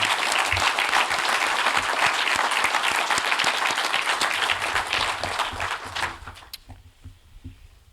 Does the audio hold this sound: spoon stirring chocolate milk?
no